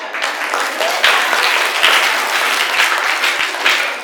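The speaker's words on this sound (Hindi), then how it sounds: "ढेर सारी तालियों से उनका स्वागत करते हैं" Dense audience applause greets guests at an Independence Day celebration, a steady wash of many hands clapping close and loud for about four seconds.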